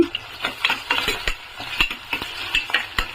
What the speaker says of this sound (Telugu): కొంచెం అల్లం వెల్లుల్లి పేస్ట్ కూడా వేసాను